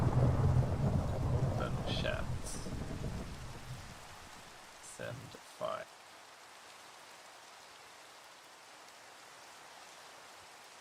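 Rain that has just started falling outside, a soft steady hiss under someone talking at the start, then a few brief clicks before the rain carries on faintly and alone.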